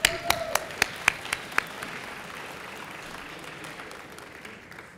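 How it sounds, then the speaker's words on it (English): An audience in a talk setting applauds. It begins with several sharp, distinct claps and then settles into a soft, steady wash of clapping that slowly fades. "Can we have a round of applause for them,"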